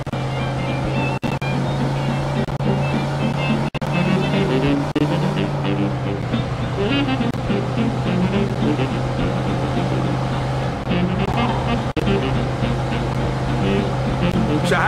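A car engine hums steadily as it drives through Mafia II, a low, constant drone with road rumble that shifts pitch midway. People talk throughout over the motor.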